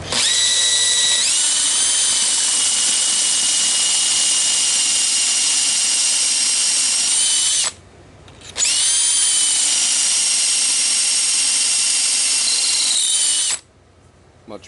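Power drill with a brand-new 3/8 bit boring a larger pilot hole while building a bridge: loud high-pitched steady whine that runs about seven seconds, cuts out briefly, then whirs again for several more seconds before stopping.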